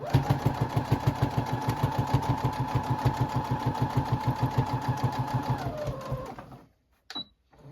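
A domestic sewing machine stitching a thick rag quilt runs at a steady, fast mechanical chatter, close and loud, then slows and stops near the end, followed by a short metallic click.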